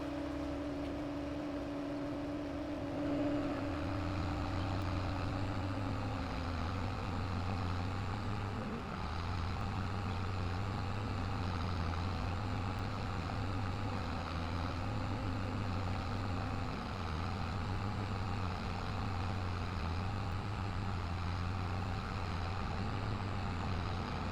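Tractor pulling a tippy trailer across a field in Farming Simulator 22, a steady low engine drone with a pulsing rumble that rolls on unbroken, close and fairly loud.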